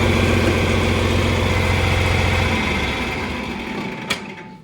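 Diesel engine of a John Deere 4320 tractor running with a steady low rumble that slowly fades as it winds down, ending with a brief metallic knock.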